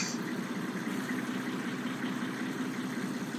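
A truck idles in Farming Simulator 2022, a steady low engine drone with a constant hum that holds evenly throughout, with no talking.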